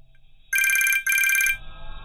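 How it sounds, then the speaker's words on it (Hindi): A telephone rings in two loud, bright electronic bursts with a short gap between them, alone at night with no voices, followed by a low hum. "फिर से रिंग होती है।"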